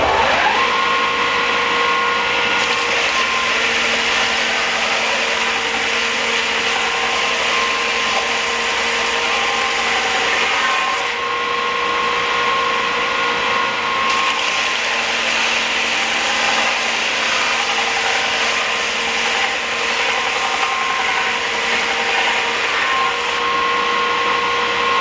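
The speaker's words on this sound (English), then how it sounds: "I'm just going to run them over top of the bench sander here, just to smooth up the edges" Bench sander smoothing the edges of cedar boards for a homemade wakesurf board, a loud steady motor whine with a continuous gritty grinding rasp throughout, slight shifts in tone as boards are pressed against it.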